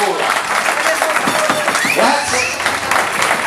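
An audience at a dance school's end-of-course recital applauds in a dense, continuous patter of clapping, with voices and a few shouts mixed into the crowd noise.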